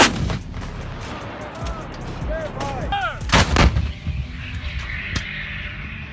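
A howitzer fires in the war in Ukraine, a single massive nearby boom rising from a steady outdoor rumble, followed by echoing rumble and a few sharp cracks, with no talk.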